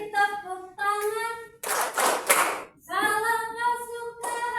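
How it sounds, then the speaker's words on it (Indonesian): Young pupils sing a cheerful action song in class, pausing mid-verse for a short flurry of rapid group hand claps before the singing resumes. "Kalau kau suka hati tepuk tangan."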